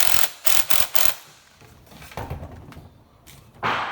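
A dishwasher air gap nut is hand-tightened during installation, giving a few sharp clicking, ratcheting bursts close by early on, then softer scraping and rubbing and a final louder grind.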